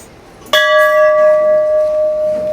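A temple bell in Sikkim, hung beside a gompa's prayer wheel, rings once with a sharp metallic strike and then a long, steady, shimmering hum that slowly fades. It sounds close and loud over faint background noise.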